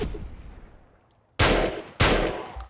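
Two sharp, loud pistol shots from a 9mm handgun ring out about half a second apart during a Croat attack in the Battlefield Yugoslavia game, each with a ringing tail, after a quiet opening.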